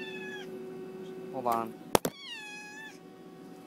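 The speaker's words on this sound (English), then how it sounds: "And there's my cat right now." A pet cat meows several times close by, drawn-out calls before and after a sharp knock, with a person speaking briefly between them indoors.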